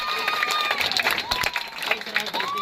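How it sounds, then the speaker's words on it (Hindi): Audience, including children, clapping at a political rally in response to a call for loud applause, with brisk, uneven clapping and crowd noise mixed with whistles or shouts, moderately close and continuous. "जोरदार बच्चों, जोरदार तालियां बजा के दिखाओ एक बार।"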